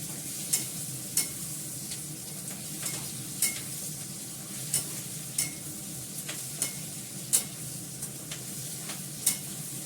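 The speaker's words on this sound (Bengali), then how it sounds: "আমার এটা ফ্রাই হয়ে গেছে" Onions frying and being stirred in a kadai for paneer do pyaza, a steady close sizzle broken by regular scraping and clinking of the spatula every second or so, with no voices.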